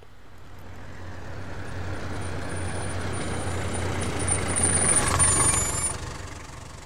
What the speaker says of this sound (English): So first I have my bus coming.